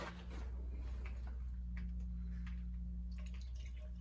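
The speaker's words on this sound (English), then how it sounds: "Oh, I got a drip. I got a drip. I can hear it." Water drips steadily beneath the lower radiator neck of a Toyota CJ7 fitted with a 1PZ diesel, a quiet irregular ticking over a constant low hum, close and alone with no talk.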